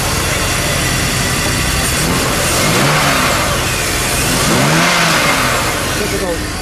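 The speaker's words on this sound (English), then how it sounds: "Let's start her up just a minute so we can tell people what the normal Z3 sounds like." A stock 2002 BMW Z3 idles smoothly and quietly, with a couple of brief revs swelling the engine note around the middle and end of the clip; talk is heard faintly over it.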